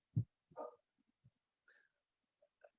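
A dog barks once up close, followed by a few softer yips, whimpers and breathy sounds scattered through otherwise quiet surroundings.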